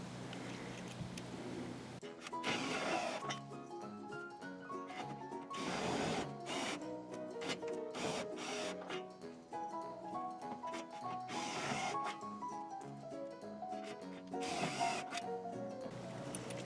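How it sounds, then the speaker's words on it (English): Screws being driven through a boat guard into a plywood deck, a motorized whirring that runs in repeated bursts with short pauses, moderately close but fairly faint. "you'll just start at the back hole and screw them all in."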